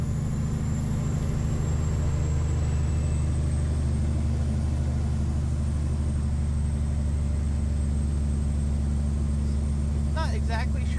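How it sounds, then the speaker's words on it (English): An over-the-road truck's engine drones low and loud as it pulls uphill, a steady heavy rumble filling the cab, with someone talking over it. "Not exactly sure how well the audio's picking up my voice over the sound of the truck."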